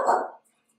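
A single short dog bark, close and fairly loud, cut off abruptly and followed by silence.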